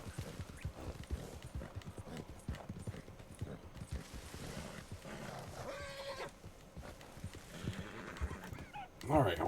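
Horse hooves clip-clop steadily in the video game Red Dead Online, with snorts and a whinny rising near the end, while someone talks over the hoofbeats.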